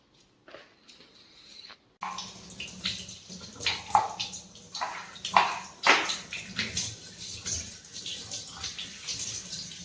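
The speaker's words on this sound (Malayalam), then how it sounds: "വിളക്ക് കഴുകട്ടെ കേട്ടോ." Water runs from a tap while a lamp is washed, a steady close splashing stream starting after a short pause, with clattering and scrubbing bursts over it.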